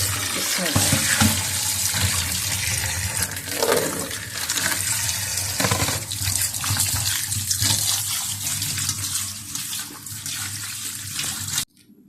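Tap water runs steadily and loudly while chicken wings are washed for homemade hot wings, a continuous splashing stream that cuts off abruptly near the end, no talk.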